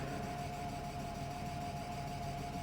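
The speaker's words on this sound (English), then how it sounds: "Lifters are very loud, as you could imagine." A BMW E36 M3 with noisy lifters idles in a constant, close mechanical drone marked by a steady whine, heard alone without speech.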